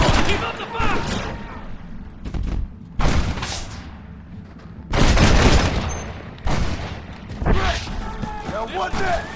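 Bursts of gunfire and booms in a Red Dead Redemption shootout, loud volleys coming in clusters with gaps between them, while voices shout over the action.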